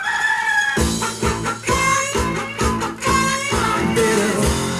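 Chicken clucking and crowing from a novelty vinyl record, repeated bursts of fowl calls set against a rhythmic musical backing that comes in after the first second.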